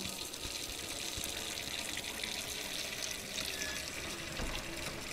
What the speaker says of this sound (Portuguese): a gente vai abrir a água, esperar encher.